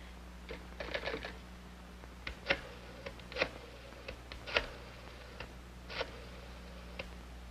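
A telephone is dialed in a quiet room, with a series of irregular light clicks and ticks over a low steady hum and no voices.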